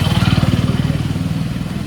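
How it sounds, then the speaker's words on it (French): A motorcycle passes close by on a street in Pondicherry, India, its engine throbbing in a loud rapid pulse that fades gradually as it moves away. "Puis une moto."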